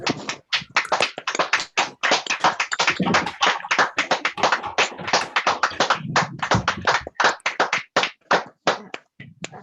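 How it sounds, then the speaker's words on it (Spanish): An audience applauds a doctor after his talk on human learning and memory, a lively stretch of many hands clapping close and loud, uneven claps overlapping for several seconds before thinning toward the end. "le damos un aplauso al doctor"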